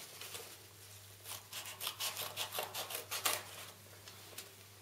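Scissors trim excess canvas from the back of a print stretched on stretcher bars, a quiet, close run of about a dozen quick crisp snips in a steady rhythm.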